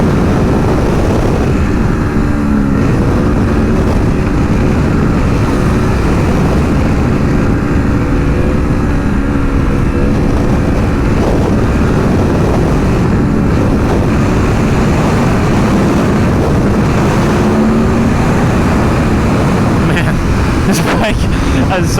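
A 2021 Aprilia Tuono V4 Factory, a 1100 cc V4 motorcycle, runs under load while being ridden. Its engine drone is buried in constant heavy wind rush, with a voice loud and continuous over the roar.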